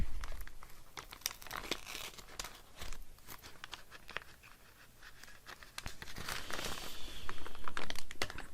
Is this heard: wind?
no